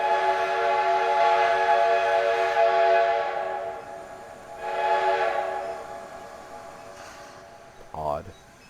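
A locomotive whistle in the Trainz 2022 railway simulator blows long sustained blasts, one steady pull followed by another swelling blast and a fainter short toot, loud and harmonically rich over low ambient rumble.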